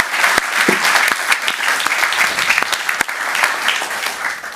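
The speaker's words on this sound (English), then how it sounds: "give them a round of applause" Audience applause at a Burbank city council meeting, a steady wash of many hands clapping with a few sharp individual claps standing out, sustained for several seconds.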